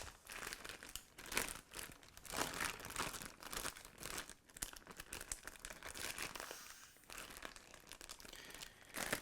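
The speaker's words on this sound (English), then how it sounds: "Now I just want to go ahead and massage this meat through the bag here and get that marinade just coating everything" Plastic zip-top bag crinkling steadily as marinated meat for Russian-style shashlik is massaged through it by hand, a close, continuous rustle and crunch with no talking.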